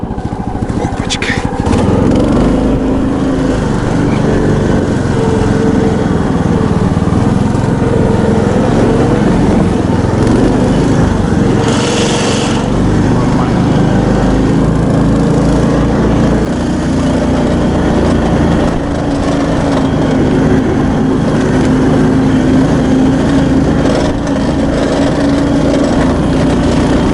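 An Albatros KhLV9 motorized towing vehicle drives through snowy forest, its small engine droning loudly and continuously for the whole stretch, with a brief rough burst partway through and no clear talk.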